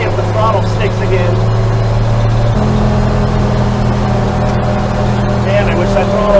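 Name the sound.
fire truck engine accelerating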